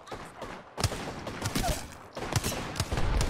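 Rapid gunfire in a video game shooter, Call of Duty Code Red mode, with bursts of shots clustered in two loud stretches, close and continuous over a busy game background.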